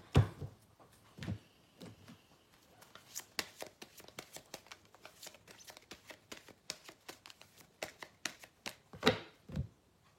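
Tarot cards being shuffled, a dense run of soft papery riffles and slaps over about ten seconds, close by, with a couple of louder bursts near the end.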